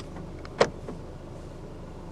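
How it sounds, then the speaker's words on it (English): A single short, sharp clunk of the electronic central locking actuating inside a 2016 Infiniti Q50 2.2d, close and isolated against a quiet cabin. "Electronic central locking."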